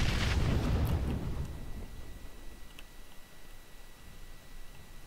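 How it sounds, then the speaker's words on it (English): A grenade blast in a shooter game hits at the very start, then rolls off into a fading, low rumble that dies away to quiet ambience with faint ticking sounds. "Throwing nades."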